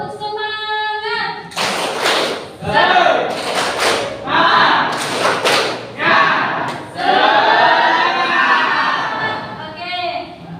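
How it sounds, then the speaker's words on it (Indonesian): A group performs the Indonesian 'tepuk semangat' clapping chant, loud bursts of rhythmic clapping and thumping mixed with voices chanting in unison, close by, with short pauses between bursts. "Dimulai dari yang pertama, tepuk semangat."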